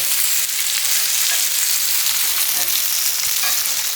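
An onion frying in a hot pan, a loud, dense and continuous sizzle heard up close with faint crackles, no voices.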